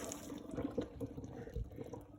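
Water pours and splashes as boiled orange peel slices are strained and rinsed under cold water, a steady, close liquid rush with no talk.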